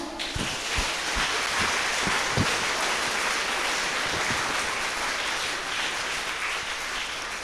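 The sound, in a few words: round of applause at end of prayer concert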